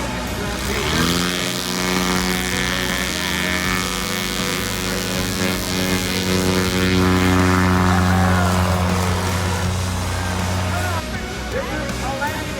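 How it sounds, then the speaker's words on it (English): A Piper TriPacer light aircraft at the Oshkosh AirVenture 2021 fly-in drones steadily with a loud engine and propeller hum that swells as it passes nearby, with people talking underneath. "I hear the TriPacer."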